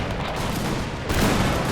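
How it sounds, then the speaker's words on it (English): Dense, continuous rifle fire pours from every side of a fort in a battle video game set at Gingindlovu in the Anglo-Zulu War, a loud, steady crackling roar that swells slightly near the end. "all sides of the fort are firing"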